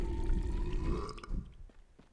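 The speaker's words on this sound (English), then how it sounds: "let's get that belch on, and let's see how this stuns the enemy" A loud, wet belch from the Bacchus ability in SMITE 2 rumbles for about a second, then fades into softer squishy game sounds.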